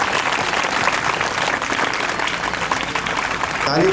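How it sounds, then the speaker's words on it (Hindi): An audience at an NGO education event claps steadily to welcome a guest to the stage, a dense continuous wash of applause from many hands, with voices faintly mixed in. "उनको ताली बजा के स्वागत करेंगे"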